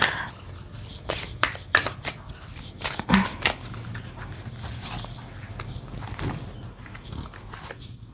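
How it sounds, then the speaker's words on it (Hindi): Tarot cards are drawn from a pile and shuffled by hand, a series of crisp riffling flicks and slides, close and fairly loud, with short pauses between bursts and no talking. "सबसे पहले मैं यहाँ पे पाइल 3 कार्ड्स निकाल रही हूँ।"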